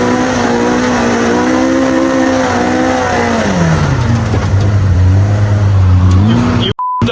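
A CFMOTO Z10 side-by-side drives on a drag strip, its engine loud and close, climbing and falling in pitch as it revs through a steady run.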